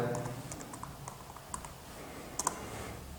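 Keys clicking on a computer keyboard while naming a new folder in a CAD program, a few scattered taps then a quick close pair of clicks, fairly faint over steady room noise.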